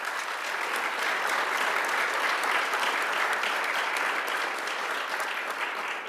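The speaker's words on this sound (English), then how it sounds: "So let's give Hillary a round of applause." Audience applause after a presentation at a kitchen and bath industry show, a sustained, even round of many hands clapping, loud and close, with no voices over it.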